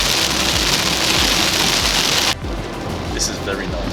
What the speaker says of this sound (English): now it's the heaviest rain I've seen in a long time